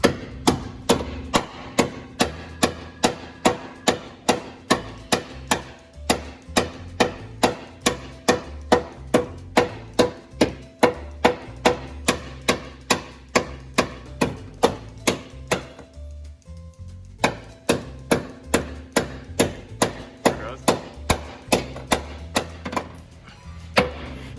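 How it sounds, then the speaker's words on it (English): Steady, loud hammer blows strike metal on a 2011 Subaru Outback to clear room for oversized tires, dozens of sharp impacts in a regular rhythm with a brief pause partway through before the pounding resumes. "So that's what you would call a professional hammering."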